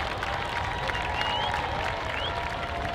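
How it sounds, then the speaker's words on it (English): Outdoor crowd at a high school football game between Santa Paula and Fillmore applauding both teams, a steady, moderately loud wash of clapping and cheering that holds evenly throughout. "let's give both teams a big round of applause"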